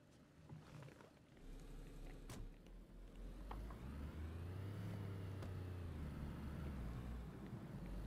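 Corvette car in the video game DayZ, its engine drone rising and settling as it drives, with a low rumbling pitch sweep and a few clicks and knocks, fairly faint and without speech.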